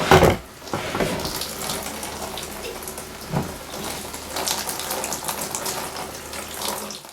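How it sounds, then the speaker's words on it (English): Hose water rinsing hydrogen peroxide off an old Newfoundland moose skull, a steady close splashing spray that runs for the whole stretch with brief louder surges near the start and middle. "I just took the hose and rinsed off the peroxide so it wouldn't be sitting on there."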